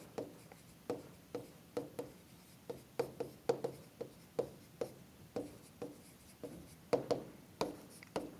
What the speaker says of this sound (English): I'm going to erase part of my washer here just to make some room.